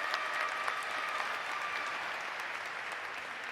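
Applause from an audience after a commencement address at a Tougaloo College graduation ceremony, a broad, even wash of many hands clapping that fades slightly toward the end.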